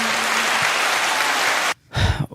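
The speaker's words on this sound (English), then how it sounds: "Final round of applause of today." Audience applause closing a podcast show, a steady dense wash of clapping that cuts off abruptly near the end, followed by a brief voice.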